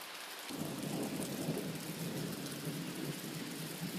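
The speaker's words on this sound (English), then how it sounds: "Man, did you hear that? Still raining." A thunderstorm with heavy rain; after a brief quiet start a loud, continuous roar of rain and rumbling thunder sets in and holds steady throughout.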